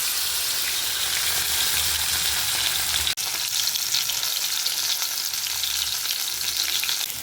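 Fish pieces fry two at a time in a pan of hot oil, giving a loud, dense, unbroken crackling sizzle heard up close, with one sharp click partway through.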